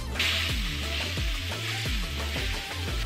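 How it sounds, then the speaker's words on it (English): Ground beef browning in a hot pan for taco meat gives a continuous sizzle, broken by repeated spatula scrapes and stirs in a steady rhythm, close up with no voices. "I'm gonna go ahead and brown our ground beef just the same way I would normal taco meat"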